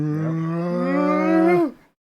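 A single long, loud cow moo, sustained and steady before it cuts off abruptly, close and with nothing else around it.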